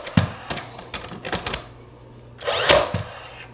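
An airless 18 or 16 gauge brad nail gun fires during wainscot installation, giving a quick series of sharp mechanical snaps followed by a louder, longer burst near the end. The sound is close and there is no talk.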